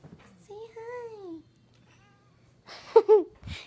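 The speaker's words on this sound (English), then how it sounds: "He just meowed." A house cat meows once in a drawn-out rising-falling call, close and clear, followed by a brief human voice and some handling noise.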